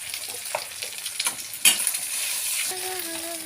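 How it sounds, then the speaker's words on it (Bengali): Scrambled eggs fry in hot oil in a wok, a steady soft sizzle broken by a few clicks and scrapes of stirring, fairly quiet and with no talk. "এটার মধ্যে আমি একটু ডিমের ভুজিয়াটা করে নেব"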